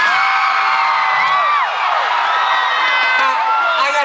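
An audience at comedian Tyson's stand-up show cheering and whooping, loud overlapping yells and rising shouts that carry on continuously for several seconds.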